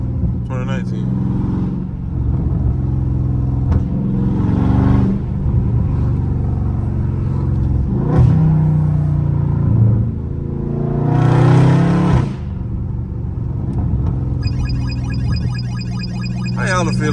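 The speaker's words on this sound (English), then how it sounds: "you just hear a nice, lovely V8 just come through your neighborhood and bless it" Dodge Scat Pack V8 rolling through a residential neighborhood, deep engine rumble with several revving surges and exhaust bursts, loud and near, under steady talk.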